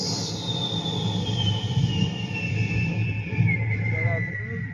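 A voice imitates an airplane coming in to land with one long, high whistling tone that slowly glides downward over a low rumbling background.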